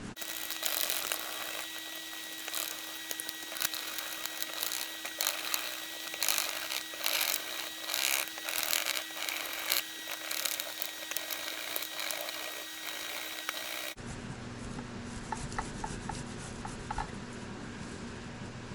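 Potatoes being grated by hand for a vegan breakfast hash, a dense rapid scraping that runs steadily and fairly close, then shifts to a quieter, duller scraping toward the end.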